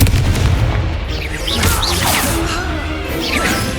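A Confringo fire spell blasts in Hogwarts Legacy, a heavy booming explosion with crashing debris and whooshing bursts over a low rumble, loud and close, with faint voices mixed in.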